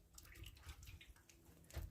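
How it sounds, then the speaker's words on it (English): Water splashes and trickles softly for a moment, close by and faint, as water is poured into a small cup for cleaning a paint sprayer. "Just put some water in this."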